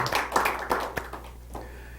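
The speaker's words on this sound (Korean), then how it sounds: "우리 박수로 환영합니다" Scattered hand claps welcome guests at a church gathering, a handful of uneven, moderately close claps over a low background hum, tapering off.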